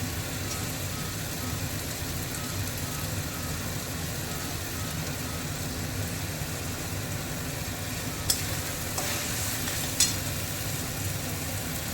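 Chicken with ginger and tomato frying in a pan for bhuna chicken with mango kasundi, a steady dense sizzle throughout with a couple of faint clicks of stirring near the end.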